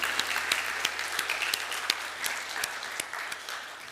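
A church congregation claps during a Sunday worship service, with steady, fairly faint applause punctuated by a few sharper individual claps.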